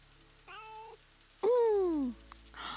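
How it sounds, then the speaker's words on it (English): A kitten in the House Flipper video game with its pets add-on gives two clear meows, a short one followed by a louder, longer falling meow, with a faint soft rustle at the end. "Was that you meowing?"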